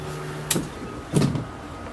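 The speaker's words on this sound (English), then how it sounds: "my door, you operate the door" A bus door on a commercial vehicle being worked during a pre-trip inspection gives two distinct mechanical clunks about 0.7 seconds apart, opening and then shutting, over a steady low idle hum with no one talking.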